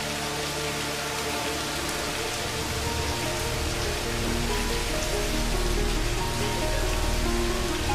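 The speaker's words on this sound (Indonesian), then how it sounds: "Apalagi hujan seperti ini" Steady, heavy rain pours down in a village setting, a dense unbroken hiss of drops on surfaces that swells slightly louder toward the end, with no voices over it.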